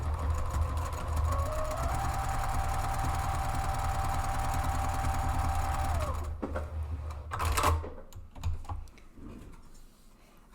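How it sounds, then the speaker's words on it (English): Close by, a sewing machine stitches a row down a short fabric tab, its motor holding a steady whirring hum with a rapid needle rhythm for about six seconds, then stopping, followed by a few handling clicks. "So all I have to do is run a row of stitching down this short tab."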